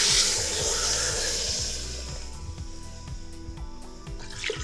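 Water pours into a pot of Trinidadian cow heel soup, a broad splashing rush that starts strong and slowly settles into a steady, quieter flow with faint dripping near the end.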